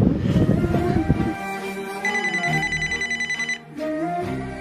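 A telephone rings in a rapid repeating electronic trill, preceded by noisy rustling, followed by a brief pause and softer tones.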